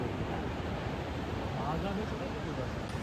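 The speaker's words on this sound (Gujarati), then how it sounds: "મોજા જોરથી ઉછળે છે" Ocean surf on a beach in Goa, a steady broadband roar of breaking waves rolling continuously, loud and close with no clear gaps between surges.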